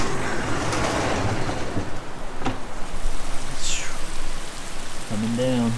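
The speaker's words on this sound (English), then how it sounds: "it's raining really hard right now" Heavy rain pours steadily and loudly on a workshop, a dense continuous hiss with a brief louder clatter and a faint voice near the end.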